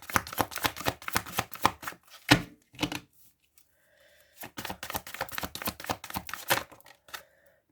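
Tarot cards shuffled and dealt for a Virgo reading: dense bursts of crisp riffling and slapping card noise, close and fairly loud, broken by a sharp snap and a brief pause before another run of shuffling.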